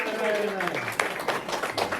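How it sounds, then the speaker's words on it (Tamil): An audience at a Tamil Bhagavatam discourse claps hands together, a brief burst of clapping that rises under and around a voice speaking over it. "எல்லாரும் கை தட்டுங்க, கரகோஷம்."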